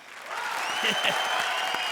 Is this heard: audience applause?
yes